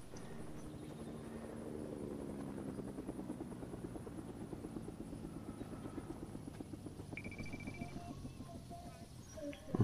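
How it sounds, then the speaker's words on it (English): A helicopter lifts off in Fortnite, its rotor chopping in a fast steady rhythm that builds in loudness, with a faint chime-like tone near the end and no talk over it. "There's a helicopter just taking off."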